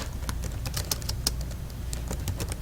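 A short message is typed on a computer keyboard, a quick close patter of key clicks with a few louder keystrokes standing out, no voices.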